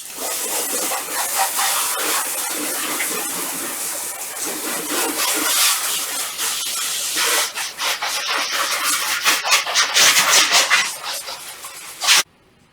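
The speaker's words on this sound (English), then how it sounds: "That I've washed the car, I'm going to give it a rinse." Continuous hissing spray of water rinsing a car, steady and close, shifting in intensity before cutting off abruptly at the end.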